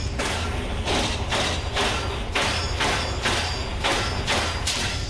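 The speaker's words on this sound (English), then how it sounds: "It's only a 6-round burst, to be fair." Six heavy booming shotgun blasts from a handmade drum-fed shotgun in Fallout 4 fire in a quick, evenly spaced burst, each thud close and loud.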